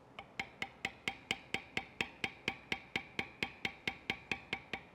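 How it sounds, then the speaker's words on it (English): A bevel tool struck with a mallet around a maker's mark on leather for a trading card project. Steady, evenly spaced light taps repeat about four times per second, close and alone, with no talk. "bevel right around that maker's mark there"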